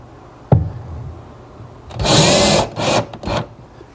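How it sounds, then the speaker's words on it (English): Screws being driven with a power drill to mount pocket door track hardware on a teak bar: a sharp knock, then a loud whirring drive followed by two shorter bursts, close by. "one that gets mounted to the bottom by simply attaching it to the side with some screws"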